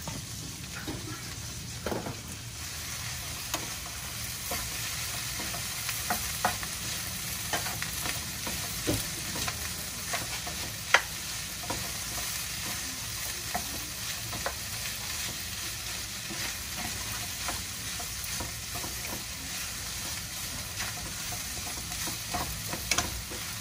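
Pork sisig stir-frying in a pan, a continuous crackling sizzle with scattered scrapes and taps of a spatula over more than twenty seconds, even and close, no voices.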